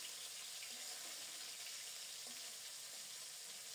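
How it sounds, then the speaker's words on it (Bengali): Small topse fish coated in flour fry in oil, giving a soft, even sizzle and hiss that holds steady at a low level, with no other sound. "তোপসে মাছগুলো উল্টে পাল্টে লাল লাল করে ভেজে নেব"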